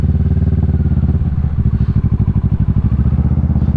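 A Kawasaki Ninja 650 motorcycle being ridden, its engine thrumming loud and close with a pulsing, rhythmic exhaust beat that steadies into a regular throb as the bike cruises.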